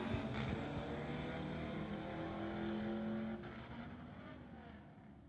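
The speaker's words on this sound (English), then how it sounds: "BMW versus the old Mustang." A BMW and an old Mustang drag racing at a street-legal drag event: a sustained, distant engine roar that drops noticeably partway through and then fades.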